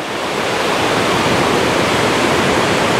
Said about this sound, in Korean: 물소리가 시원합니다.